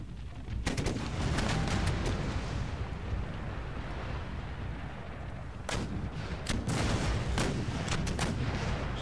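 Artillery booms and rolling musket volleys fill an Empire Total War battlefield, dense and continuous with sharp cracks standing out near the start and again toward the end.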